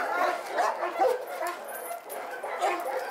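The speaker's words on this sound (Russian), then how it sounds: "Первыми выбегают на прогулку собаки, живущие в здании, а также те, кто проживает в вольерах" Several dogs bark and yip at an animal shelter in Syktyvkar, a steady chorus of overlapping barks with whimpers mixed in, moderately loud and continuous without talk.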